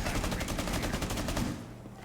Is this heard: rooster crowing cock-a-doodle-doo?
no